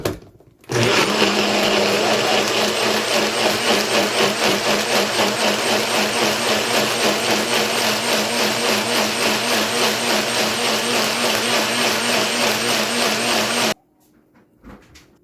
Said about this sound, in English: I'm just gonna give it a last blend to make sure that everything is nice and smooth.